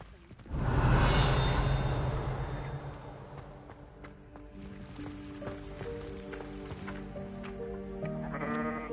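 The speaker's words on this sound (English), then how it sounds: "Full of sheep." Sheep bleat in the video game Hogwarts Legacy: one loud, close bleat opens, followed by quieter game ambience and softer tones.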